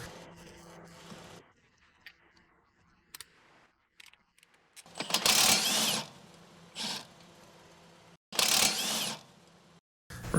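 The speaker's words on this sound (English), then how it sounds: "using the 18mm socket to remove the bolts holding the strut to the knuckle." Bolts holding a Chevrolet strut to the steering knuckle are loosened with an 18mm socket, likely a power tool: a few loud bursts of whirring rattle separated by quieter clicks and handling noise, close by with no talk.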